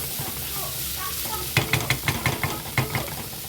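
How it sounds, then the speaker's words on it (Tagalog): Fried rice is stir-fried in a pan over a constant low sizzle, with a string of rhythmic scraping knocks from a spatula tossing and mixing the rice in the second half. "Halo-haloin mo na lang ang rice. Ito na ang aking stir fry"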